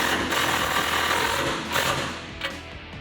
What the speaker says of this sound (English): grab a 19mm socket and tighten them down